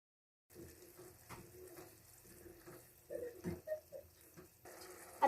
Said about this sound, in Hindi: अभी हम दाल का बचा हुआ पानी डालेंगे